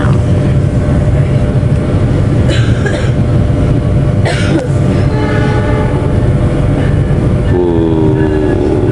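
A train rumbles steadily nearby, loud and continuous, with a few squealing and horn-like tones rising over the noise, heard aboard the Ranggajati executive-class train leaving Sragen station in Indonesia.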